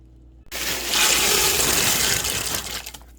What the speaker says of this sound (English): the next thing that I'm putting in is just a, what is this, 2-pound bag of mixed vegetables